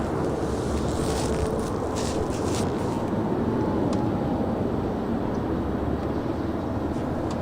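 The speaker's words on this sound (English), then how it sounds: "next departure here on the south side is American Airlines A321neo on her way to Las Vegas, flight 2388. She is now rolling" An American Airlines A321neo rolls for takeoff at Los Angeles International Airport, giving a steady broadband jet roar with wind-like rushing that holds at a fairly constant level throughout.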